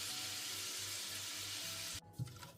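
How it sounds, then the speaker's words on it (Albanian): Mushrooms fry with flour in a pan, a dense steady sizzle that fills the first two seconds before cutting off abruptly, followed by a brief soft clatter. "Vazhdojmë tani fërgojmë këpurdhat bashkë me miellin edhe vetëm për 1 deri në 2 minuta"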